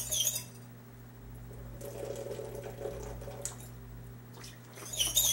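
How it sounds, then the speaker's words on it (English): Distilled water poured and swirled over recovered gold from jeweler's bench sweeps, a soft, steady trickle of liquid running at low level over a constant electrical hum, with a few brief clinks and splashes near the end. "Then I'm going to rinse the gold with a few distilled water rinses to get any chlorinated tap water off of there."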